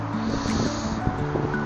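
A small stream runs near the Hudson River, its water giving a constant, fairly loud rushing murmur with a steady low hum beneath it.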